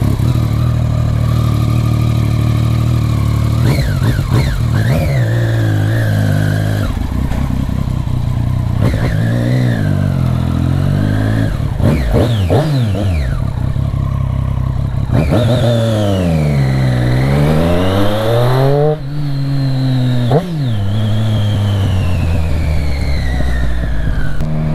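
A Triumph Street Triple 675R motorcycle fitted with an Akrapovic exhaust, revving loud and close. Its deep idle swells repeatedly into rising and falling throttle blips, with a long smooth sweep up and back down.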